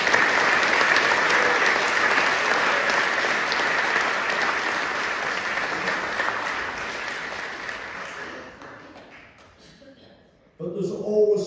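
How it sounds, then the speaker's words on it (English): Audience clapping loudly for a project team member at a community talk, a full sustained round that fades after about eight seconds into near quiet before a voice briefly starts. "So can we give Rob a round of applause?"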